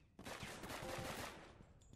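Gunfire in a Brazilian take on the GTA video game, a quiet rattling automatic burst of rapid shots that starts abruptly and fades slightly over about two seconds.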